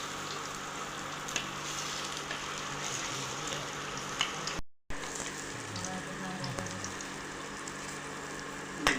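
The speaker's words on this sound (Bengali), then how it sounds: "একটু লাল লাল করে ভেজে নিয়েছি" Pieces of food fry in hot oil, turned over partway through, giving a steady close sizzle with occasional soft scraping and a brief drop to silence midway.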